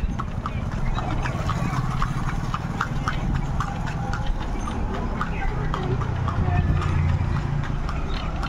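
Horse hooves clip-clopping at a quick, steady running pace on a ride in Murshidabad, loud and close, with an occasional whinny and voices talking over the hoofbeats.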